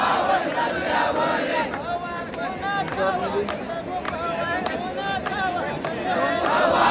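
A huge, dense crowd fills the air at a palanquin procession at Karla fort during heavy rain, with continuous loud shouting and babble carrying throughout and rising in spots.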